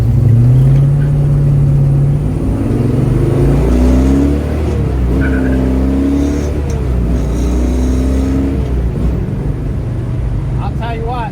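A 1966 SS Chevelle convertible pulls up a small incline in light lunchtime traffic, its engine revving and rising steadily in pitch as it accelerates. The engine is loud and close, and someone talks over it.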